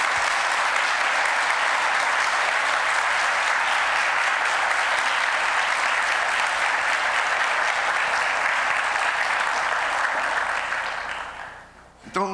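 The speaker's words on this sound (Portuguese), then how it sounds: "vocês devem mais um aplauso para o Farias" Sustained audience applause for a speaker named Farias at a physics history lecture in São Carlos, dense and steady for about eleven seconds before fading out.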